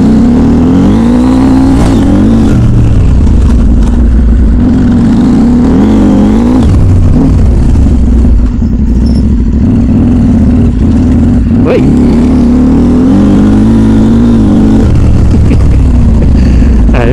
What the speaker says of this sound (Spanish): aquí le abres un poco y se pone loca la moto